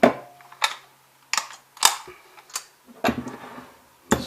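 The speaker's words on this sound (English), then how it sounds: "Put the piston back in the piston sleeve." A metal piston slides back into the piston sleeve of a Hilti DX 600N powder-actuated nail gun with a string of sharp metallic clicks and taps, close and irregular, separated by brief quiet gaps.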